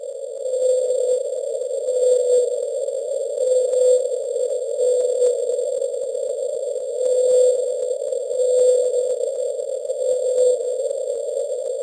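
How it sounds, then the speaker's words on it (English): A 52 Hz whale call picked up by US Navy hydrophones: a steady, unbroken droning tone with faint rhythmic pulsing over roughly twelve seconds, heard alone with no voices. "Here is the sound of the loneliest whale."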